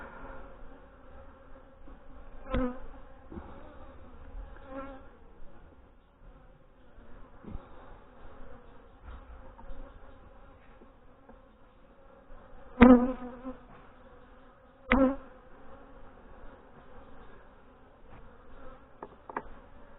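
Honey bees drone steadily around brood-filled hive frames in a colony still wanting to swarm, a close, continuous low buzz broken by a few sharp knocks and bumps from handling the frames.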